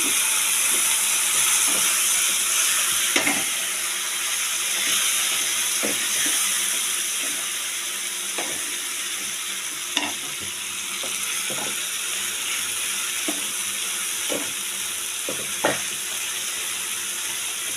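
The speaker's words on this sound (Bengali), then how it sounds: "লঙ্কার গুঁড়োটা একটুখানি একটু জল দিয়ে কষিয়ে নেবো, নাহলে পুড়ে যাবে" Chilli powder sautéing with a splash of water in a pan gives a steady, loud sizzling hiss, broken by scattered sharp scrapes and taps of stirring throughout, with no talk.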